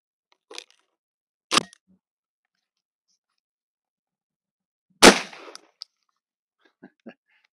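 Air rifle shots from a Derya LP 104 striking empty casings, a few sharp isolated cracks spaced seconds apart amid silence, with faint small ticks after.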